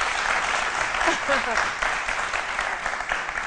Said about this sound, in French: On applaudit très fort pour Alissa.